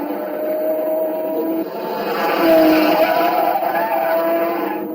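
A V12 race car roars along the track, its engine note loud and steady, swelling to a louder pass midway before holding on.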